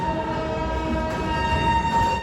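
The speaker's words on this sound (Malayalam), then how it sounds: "പൂണെയിൽ നിന്നും 191 കിലോമീറ്റർ യാത്ര ചെയ്ത ട്രെയിൻ ഇതാ മുംബൈ ഛത്രപതി ശിവാജി മഹാരാജ് ടെർമിനസ് റെയിൽവേ സ്റ്റേഷനിലേക്ക് എത്തിക്കൊണ്ടിരിക്കുകയാണ്" A train rolls into Mumbai Chhatrapati Shivaji Maharaj Terminus with a sustained, steady tonal hum and rumble, loud and close, with no talking.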